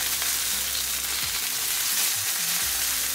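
Chicken chapli kebabs sizzle in a hot pan, a bright continuous fry with a few soft low knocks as they are turned.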